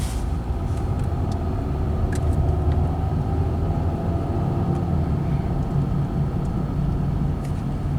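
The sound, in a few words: car tire road noise while driving a 2016 Ford Fusion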